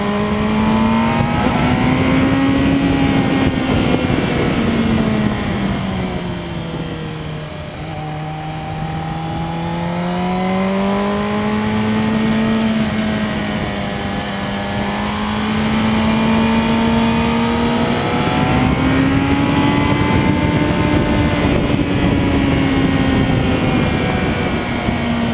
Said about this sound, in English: You can hear the backfire with my new ECU.